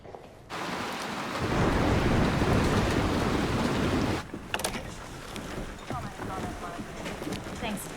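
A film storm scene opens with a deep roar of heavy rain and rumbling thunder that swells and then drops suddenly, followed by a continuing steady downpour with wind buffeting.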